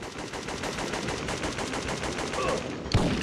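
Rapid, continuous gunfire in Syphon Filter 2, a dense rattling burst of shots that runs steadily throughout, loud and close, with a sharper thump near the end.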